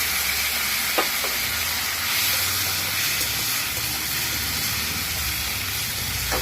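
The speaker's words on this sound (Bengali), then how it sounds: "এখানে দুটা শুকনো লঙ্কা আর একটু জিরা আর অল্প আদা বাটে রাখছিলাম, দিয়ে দিলাম।" Dried chillies, cumin and ginger paste hit hot oil in a home kitchen, producing a loud continuous sizzle and hiss with a couple of faint clicks.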